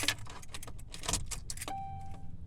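A 2005 Chevy Cavalier's ignition is worked by hand, keys jangling and clicking close up, then a thin steady electronic chime sounds as the key turns, with no engine starting.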